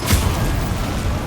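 Incendio fire spell cast in the Hogwarts Legacy video game: a short, loud boom-like burst with a whooshing roar that quickly settles into a steady crackling rumble, with no voices.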